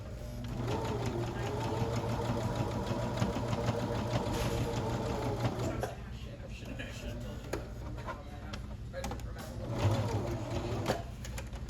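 A sewing machine stitches a seam on a garment sample, running steadily throughout with a slight pause partway through, while someone talks over it.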